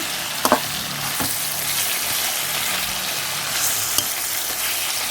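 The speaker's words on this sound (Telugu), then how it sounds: "నేను నూనె ఎక్కువగా వేసి ఫ్రై చేసుకుంటున్నాను" Steady, close sizzling of food frying in hot oil, with a few sharp clinks of a utensil against the pan.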